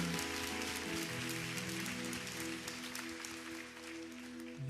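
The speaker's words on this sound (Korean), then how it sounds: "오늘도 우리 가운데 행하시는 살아계신 하나님께 감사의 박수 올려드리겠습니다" A church congregation at a dawn revival service marking LA Onnuri Church's 37th anniversary applauds in thanks, a dense, rain-like wash of clapping that stays steady over sustained keyboard music.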